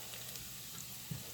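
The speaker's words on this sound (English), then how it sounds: "it's sizzling up pretty good" Steady, dense sizzling of pineapple mango habanero hot sauce frying in a hot pan, a continuous crackling hiss with a small bump of stirring near the end.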